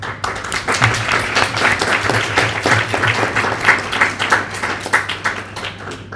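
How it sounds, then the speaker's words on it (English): An audience at a student association's national assembly bursts into loud, close applause, many hands clapping in a dense, slightly pulsing wash that holds strong throughout. "Big applause."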